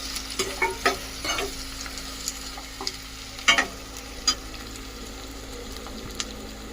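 Onions frying in a pan with a little salt, a low steady sizzle broken by several short scraping stirs, close and moderately quiet, with no one talking.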